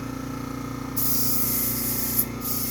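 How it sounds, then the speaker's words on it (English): An airbrush sprays a short burst of test paint inside a booth with an extractor fan, a sudden steady hiss starting about a second in over a constant hum of fan and compressor, briefly interrupted near the end. "I just have an area that I spray little bits here just to test to see if it's the color that I want"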